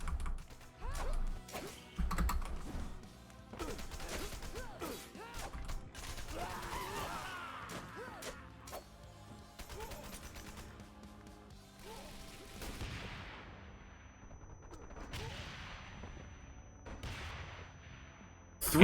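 Explosions and gunfire in the action video game Wanted: Dead, with several sharp blasts and mechanical clanks scattered over a quiet backdrop, and one loud burst at the very end.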